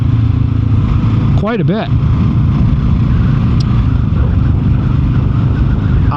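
A 2024 Kawasaki KLR 650 motorcycle under way, its engine a loud continuous drone with a brief rising and falling rev, heard beneath a rider talking over the wind.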